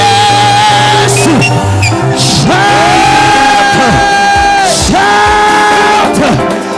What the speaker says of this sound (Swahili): Nataka tuweke shangwe na vigelegele kwa Yesu.